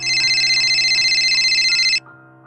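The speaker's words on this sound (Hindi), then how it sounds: "तभी उसका फोन रिंग हुआ" An electronic phone ringtone trills continuously for about two seconds, loud and close, then cuts off, leaving a faint lingering hum.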